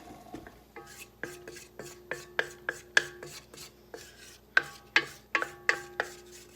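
A spatula scrapes around a mixing bowl of cream cheese cookie dough in a quiet kitchen, a string of sharp, regular knocks and scrapes about twice per second, close and fairly soft.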